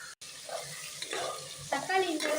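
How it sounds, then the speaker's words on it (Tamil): Tomatoes and masala sauté in a pan for homemade biryani: a soft sizzle with scraping stirs that grows louder toward the end, close and with no talking. "இப்போ நம்ம மசாலா போட்டுக்கணும். லேசாக வதங்கணும்."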